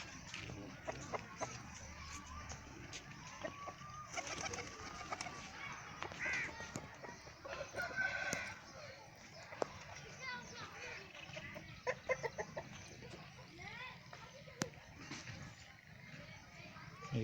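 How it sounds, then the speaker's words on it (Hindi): Aseel roosters crow and hens cluck intermittently at a moderate distance, with people talking now and then in the background. "ये देखें असील मुर्गे हैं"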